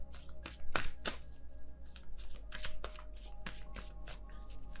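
Tarot cards are shuffled and drawn by hand, a run of quick close riffling flutters and soft slaps in an uneven rhythm with no talk over them.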